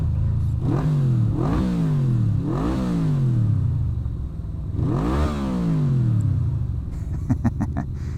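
A Harley-Davidson motorcycle engine revs repeatedly, each throttle blip rising sharply then falling away, loud and close with a constant idle rumble underneath.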